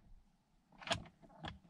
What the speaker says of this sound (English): Door shuts.